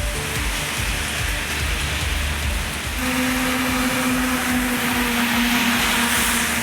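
Steady, broadband rain falls across Perambalur district, a continuous hiss of drops with a tonal hum entering midway, no voices present.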